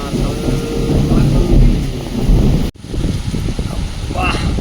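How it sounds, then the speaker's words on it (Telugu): Hail and heavy rain lash down in Hyderabad with gusting wind, a steady loud roar that cuts out briefly and resumes, with a voice talking over it. "వడగల్ల వర్షం పడుతున్నది. మామూలుగా పడతలేదు వర్షం. చల్లగా గాలి వీస్తున్నది."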